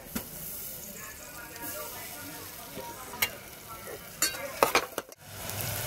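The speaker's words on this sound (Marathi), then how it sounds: "कांदा चांगला लाल झालाय, याच्यामध्ये लसूण अद्रकची पेस्ट टाक।" Ginger-garlic paste sizzling in hot oil with browned onions, a steady broadband frying hiss with stirring scrapes and a few sharp clatters near the end, close and moderately loud.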